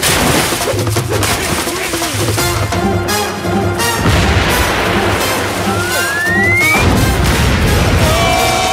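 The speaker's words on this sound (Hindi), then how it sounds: "ये धमाका हुआ कैसे?" Loud cartoon explosion from a pirate-ship adventure, a crashing boom dense with debris and splashing water, busy and full through the whole stretch, with voices talking over it.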